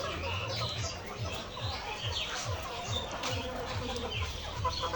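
A layer hen weighing about 1400 grams clucks on a poultry farm, with low, evenly spaced clucks in a steady rhythm over busy background chatter and chirps.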